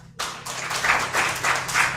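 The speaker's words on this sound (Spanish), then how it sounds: "Dele un aplauso al Señor." Church congregation clapping together, a burst of steady, rhythmic applause starting abruptly and continuing, close and loud with no voices over it.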